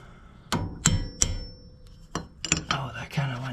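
Hammer pounding a bolt through a fork, with a nut threaded on the end to protect the threads. Several sharp metallic strikes ring out close by, spaced irregularly, with a short cluster of harder blows near the end.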